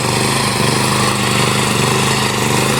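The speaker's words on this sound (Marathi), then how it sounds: "इकडे बघताय मित्रांनो, ट्रॅक्टरची खतनी चालू आहे." A tractor engine running in a farm field, a loud, steady mid-pitched drone with a faint rhythmic throb, heard close and unbroken for the whole stretch, with no talking.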